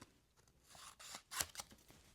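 Scissors snip through scrapbook paper in a few quiet, crisp cuts, one sharper snip standing out near the middle, close and faint with no talking.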